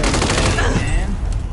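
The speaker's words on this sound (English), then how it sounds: "I'm taking shots" Loud, rapid video-game gunfire fills the moment with a dense burst of shots that crowds everything, then thins out toward the end.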